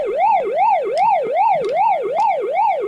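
Pac-Man arcade cabinet turned up to full volume, playing its rising and falling warbling siren tone in steady repeating sweeps, loud and close, with faint clicks on top.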